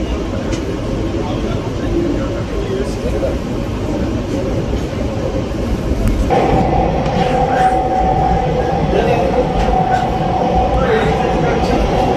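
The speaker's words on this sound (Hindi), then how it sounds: "अब ट्रेन यहाँ रियासी से आगे बढ़ेगी और अगला स्टॉप होगा इसका सीधे बनिहाल" A Vande Bharat Express on the Jammu–Srinagar line pulls out of Reasi station, heard from on board as a steady, loud rumble that swells and gains a rising tone as the train speeds up, while a voice talks over it.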